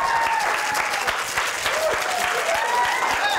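Dense, sustained applause from a live crowd at a London Cocktail Week event fills the whole stretch at an even, loud level, with a few faint voices mixed in.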